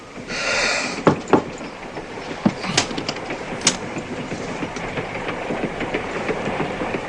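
Train rumbling along rails in a film scene, a steady clattering roll with a few sharp metallic knocks, fairly close and carrying on without talk.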